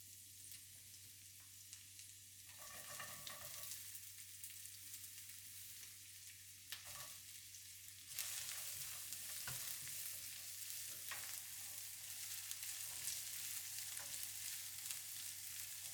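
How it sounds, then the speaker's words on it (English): Minced garlic, chopped chilies, spring onion whites and sliced onion fry in hot oil in a pan, giving a steady close sizzle that swells louder partway through, with occasional stirring scrapes. "Saute the minced garlic, chopped chilies, and spring onion whites followed by the sliced onion."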